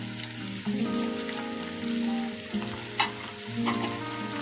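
Close, crackling sizzle of tomatoes and green chillies frying, with stirring scrapes and spatters over a busy background of music.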